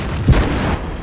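A single deep boom from a tank cannon in World of Tanks, a heavy low thud that fades quickly into a rumbling tail.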